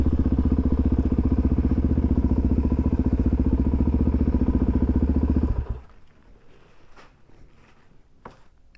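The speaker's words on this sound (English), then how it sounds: "And then the motorcycle went by." A motorcycle engine drones loudly and steadily at close range on an uneven road, then cuts off abruptly, leaving near-quiet with a few faint knocks.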